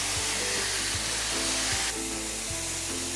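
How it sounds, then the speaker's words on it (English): Marinated ribeye steak, a thin one-inch cut, sizzling loudly and steadily in a hot pan, with a dense continuous crackle and hiss close by and no talking. "You wanna hear that sizzle when you go into the pan."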